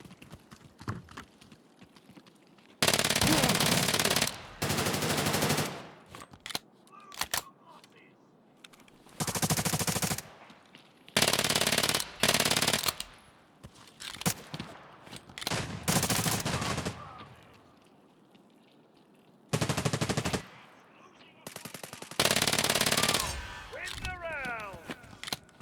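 Submachine gun fire in the game Tarkov comes in several long, loud bursts with pauses between them, and a voice talks briefly in the gaps.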